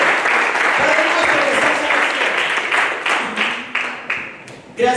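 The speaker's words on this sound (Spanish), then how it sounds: "Denle un aplauso a su Salvador." Church congregation applauding during an evening service, a loud burst of many clapping hands that gradually thins and fades, with voices speaking underneath.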